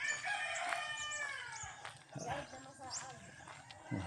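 A rooster crows on a morning walk in Lumbayagan, Tandag City, Surigao del Sur, its drawn-out call rising then falling over a background of birds, with people talking nearby.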